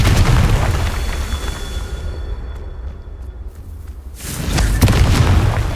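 A Confringo explosion spell from the Hogwarts Legacy video game bursts loudly, a broad rumbling blast that fades, then a second heavy boom follows near the end, with no talk.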